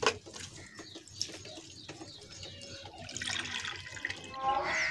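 Pet pigeons coo softly amid fluttering and splashing as water is poured for them, a busy mix of low cooing calls and wet trickling sounds close by.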